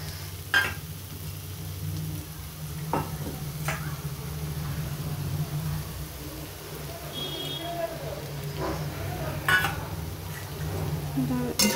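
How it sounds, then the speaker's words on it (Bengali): Soybean and potato vegetarian curry stirred in a pan, a low sizzle with intermittent spoon scrapes and clinks against the pan, steady background hum underneath. "এটাকে 2-3 মিনিটের মতন নেড়ে নিচ্ছি"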